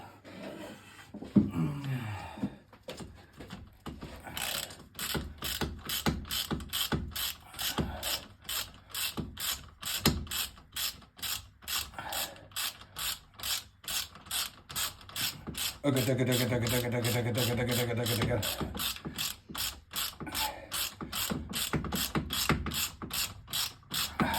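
Ratchet wrench working a long bolt on a Ford Zephyr hot rod, with rapid clicking pawl strokes repeated in steady bursts and a brief creaking squeal midway, close and fairly loud with no talk.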